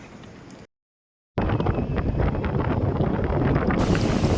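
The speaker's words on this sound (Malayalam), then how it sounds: "നല്ല കാറ്റടിക്കുന്ന സൗണ്ടാണ് കേട്ടോ. സ്പീഡിൽ വണ്ടി പോകുമ്പോൾ അതിൻ്റെ സൗണ്ടാണ് ഈ കേൾക്കുന്നത്." Loud, steady rush of wind buffeting the microphone, as from riding in a fast vehicle, after a brief silent gap near the start.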